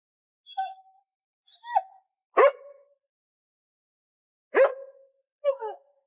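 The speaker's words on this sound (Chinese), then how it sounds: "外面的狗子再次叫了起来" A dog outside at night barks five times in separate, sharp calls spaced by short pauses, fairly close and clear with no talking.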